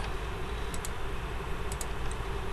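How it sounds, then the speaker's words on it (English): Keyboard typing while entering a number close to 1 into a calculator during a math lesson, a few quick light clicks close by over a steady background hiss. "typing"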